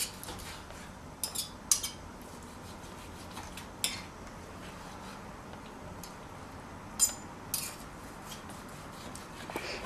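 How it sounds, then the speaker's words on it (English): A knife slicing sirloin steak into thin strips on a board, faint and close: quiet rubbing with occasional sharp clicks and taps as the blade meets the surface, scattered across a hushed background with no talk. "I'm just going to slice this up to nice thin little slices."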